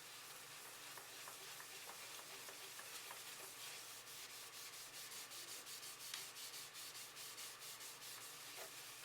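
Continuous gritty rubbing of abrasive polish on a scratched CD or DVD, with steady rhythmic back-and-forth scrubbing strokes, faint and close, no voices.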